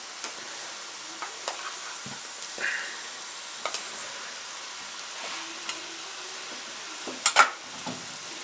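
Green pumpkin halwa being stirred with ghee in a pan, a soft sizzle beneath scattered light scrapes and clinks of the spoon, with a sharper knock near the end.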